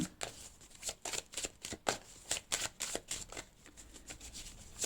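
A deck of cards being shuffled for a card reading, repeated soft riffling bursts in an irregular rhythm, close and alone.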